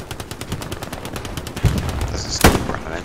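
Rapid machine gun bursts from Hell Let Loose, a World War II shooter, rattle close and loud for several seconds, with two heavier gunshot impacts cutting through near the end.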